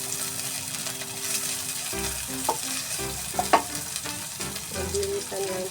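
Onion sautés in a hot pan with a steady close sizzle, joined by occasional utensil clinks and stirring scrapes, no talk.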